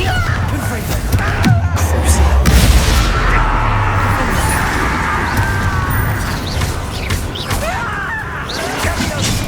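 A Bombarda spell explosion in Hogwarts Legacy lands as a heavy boom early on, followed by crashing debris and continuous battle noise with voices underneath.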